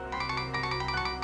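A phone ringtone rings as a repeating electronic melody in quick, even pulses, steady and moderately loud with no talking.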